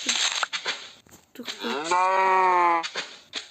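A single video game cow moos loudly, a long drawn-out low call up close, framed by some shuffling and crunching noises.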